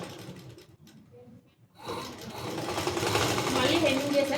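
A tailoring-class sewing machine stitches the hem of a blouse back piece, starting up after a pause and running in a steady, close mechanical whir that speeds and grows louder, with a voice speaking at the start.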